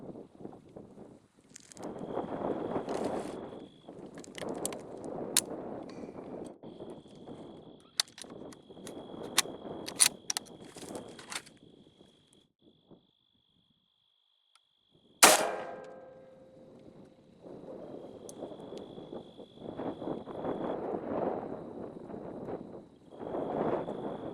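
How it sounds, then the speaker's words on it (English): A single sharp rifle shot from a Remington 770 cracks out once, near and loud, then decays quickly; before it, gusty wind buffets the microphone outdoors. "We're just going to take some shots with it really quick."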